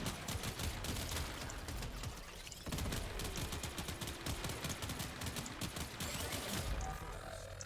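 Dense, continuous weapon fire in the video game Warframe: rapid overlapping shots with a brief dip midway, loud and close throughout.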